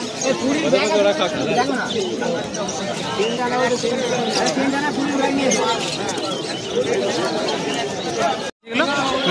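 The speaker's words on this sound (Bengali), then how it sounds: "এখানে নিচে কিছু ম্যাড্রাসি পায়রা আছে।" Madrasi pigeons at a busy pigeon market, soft cooing and bird calls mixed into constant crowd chatter and nearby talk, continuous throughout with a brief drop near the end.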